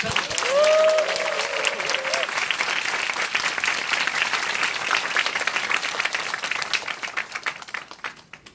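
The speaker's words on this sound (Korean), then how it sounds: "뜨거운 함성과 함께 박수를 한번 쳐주세요" An audience at a motivational lecture bursts into steady, dense applause with a brief whoop near the start. The clapping holds evenly for several seconds, then thins and fades out at the end.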